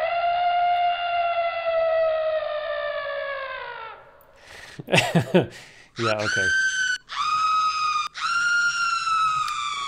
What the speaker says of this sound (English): it's a girl scream though, unfortunately